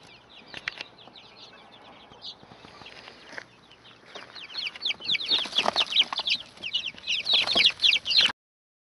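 Chickens on a homestead clucking and squawking, sparse at first then building into a loud, busy chorus of overlapping calls with some wing flapping, close by before cutting off abruptly.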